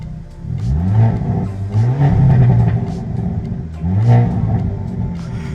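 A 2022 Hyundai Elantra N with a DCT gearbox accelerates loudly and close by. The engine note rises in revving sweeps, dips at shifts and climbs again with a deep, throaty rumble, and no one speaks.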